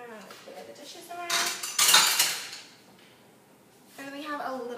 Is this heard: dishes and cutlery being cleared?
yes